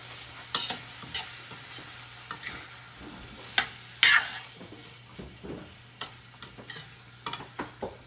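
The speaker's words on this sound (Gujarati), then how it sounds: "ફરી એકવાર સરસ મિક્સ કરી લઈશું" Green bell pepper curry frying in a pan is stirred with a utensil, giving a series of sharp scraping and clinking strokes over a faint sizzle, close up and with no talking.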